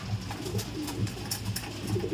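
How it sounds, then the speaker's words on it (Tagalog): Racing pigeons coo close by in a steady, repeating rhythm: soft, low, throaty calls roughly every half second, with faint bird chatter and no talk. "Ayan yung mga ibon natin."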